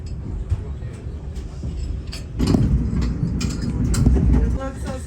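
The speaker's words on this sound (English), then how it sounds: "freight trains." A freight train rumbles past nearby, growing louder halfway through with rattling and clanking over a heavy low roar.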